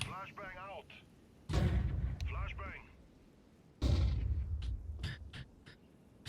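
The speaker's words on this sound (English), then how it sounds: "Throwing a flashbang." Flashbang grenades in Counter-Strike 2 go off in two loud, booming bursts, each with a heavy low-end roar that fades over a second or so, while a voice talks in between.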